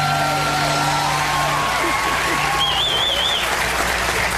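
Studio audience applause on a late-night talk show breaks out loud and sustained, a dense wash of clapping with a few whoops and cheers throughout.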